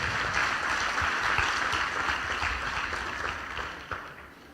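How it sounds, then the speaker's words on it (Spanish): Church congregation applauding during a sermon, a dense steady wash of clapping that holds loud for several seconds and then thins out slightly toward the end. "Den un aplauso a Dios."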